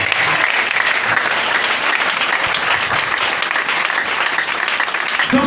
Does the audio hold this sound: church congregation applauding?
yes